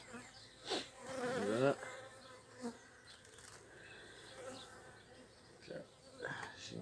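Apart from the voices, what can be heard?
honey bees buzzing around a beekeeper's veil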